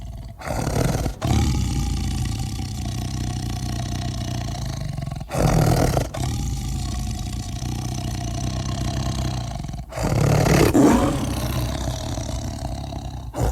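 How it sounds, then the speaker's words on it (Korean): Two tigers at the entrance of a tiger cave attraction along a forested lakeside trail roar and growl in long, loud rumbling bursts, with brief louder outbursts breaking a continuous low snarl. "호랑이 두 마리가 으르렁 됩니다"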